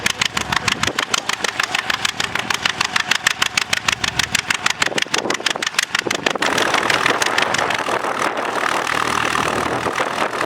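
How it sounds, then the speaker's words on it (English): 1935 John Deere AO tractor engine running nearby, with a loud, evenly spaced, slow popping beat that later turns into a denser, steadier roar. "He has a 1935 John Deere AO with a John Deere 2-bottom plow."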